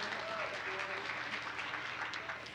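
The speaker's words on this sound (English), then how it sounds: "Let's give her a round of applause" Fairly quiet applause from a student audience at Glenn Research Center, after a live in-flight education interview with an Expedition 56 astronaut, heard as a steady patter over faint background hum.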